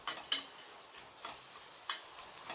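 Onions and green chillies sautéing in a pan for country chicken biryani, a soft steady sizzle with a few light spoon taps and stirring scrapes, close and quiet.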